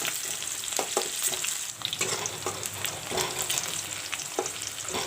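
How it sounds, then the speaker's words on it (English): Sliced onion sizzling steadily in a pan as it browns, with a continuous close crackle and occasional spoon-stirring clicks throughout, no voices. "I have sliced up one onion. This also I will put. I will let the onions turn brown a bit."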